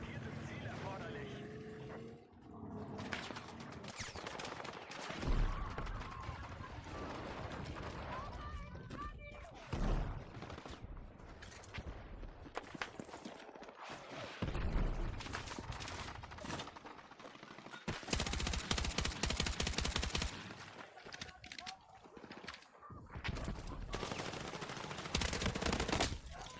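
Gunfire in Battlefield 6: repeated bursts of automatic weapon fire and sharp individual shots come in uneven clusters against a busy battle backdrop, with a player talking over the action.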